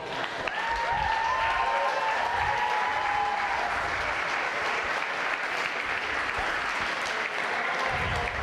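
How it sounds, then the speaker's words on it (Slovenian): Audience applause at a St. Nicholas (Miklavž) concert: dense, sustained clapping from a large crowd, steady and loud throughout, with a brief melodic tone fading in the background early on. "dajmo še en aplavz"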